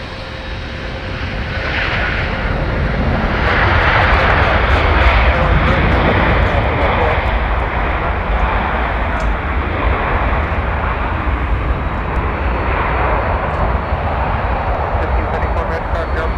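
A FedEx heavy cargo jet taxis along a taxiway toward the ramp at Minneapolis–St. Paul, giving a sustained engine rumble and whine that swells in the first seconds and then holds steady, with a voice talking over it.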